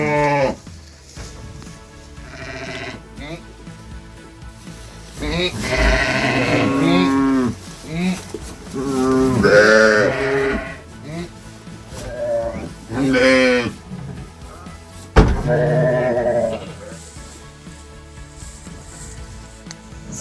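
Ewes and lambs in a lambing pen bleat and call over a long stretch, several animals at close range with bursts of loud bleating between quieter moments, plus a sharp thump partway through.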